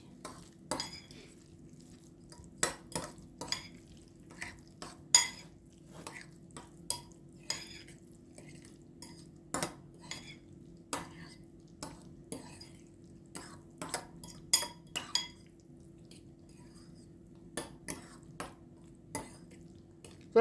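Food is stirred in a pan with a utensil, quiet repeated clinks and scrapes against the metal at an uneven pace, set close over a low steady hum, with faint voices now and then.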